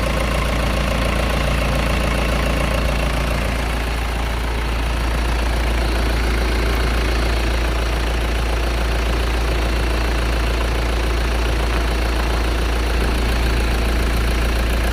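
A Mahindra Scorpio SUV engine idles close by, steady and loud, with a constant low rumble and mechanical ticking continuing evenly throughout, no voices heard.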